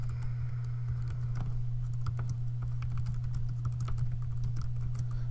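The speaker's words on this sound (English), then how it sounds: "type in one of the classes that I teach" Typing on a computer keyboard while entering text into a Word resume: steady, close clicking of keys over a constant low electrical hum, with no talking.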